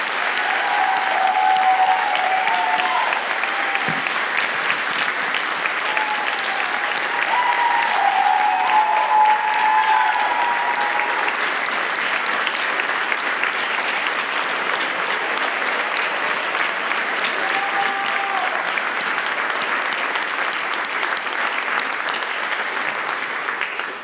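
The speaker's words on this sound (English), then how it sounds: "Let's give our 2026 Baldwinsville Community Hall of Fame for Visual and Performing Arts class another well-deserved round of applause" Sustained audience applause at a 2026 Baldwinsville Community Hall of Fame ceremony for visual and performing arts inductees, a dense, steady roar of many hands clapping for about 24 seconds with a few faint whistles or cheers.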